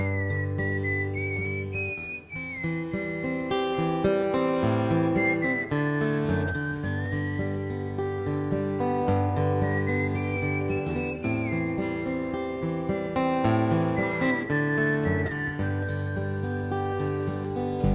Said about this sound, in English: I started to whistle a bit of a tune